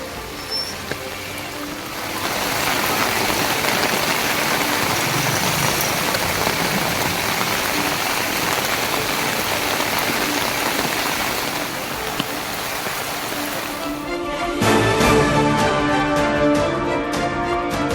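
Heavy rain falls steadily on roads in Perungalathur, Chennai, a dense continuous hiss of water that starts after a quieter moment and carries on throughout, with a shift in texture near the end.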